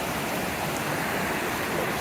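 A full waterfall roars in the wilderness of the Boundary Waters, a dense, steady rushing wash of falling water close by, unbroken and loud throughout.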